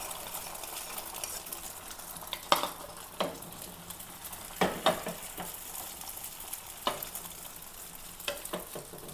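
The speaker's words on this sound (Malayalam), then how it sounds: "അപ്പോൾ ഞാൻ 2-3 മുട്ട വറുക്കണേ കേട്ടോ." Two or three chicken eggs fry in a pan with a steady, hissing sizzle, punctuated every second or two by sharp scrapes and taps of a utensil against the pan. No one speaks.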